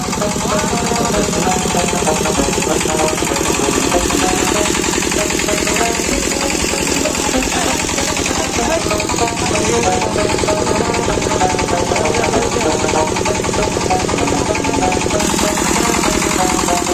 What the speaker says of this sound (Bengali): এখন ইঞ্জিনের ব্যবস্থা করা হয়েছে।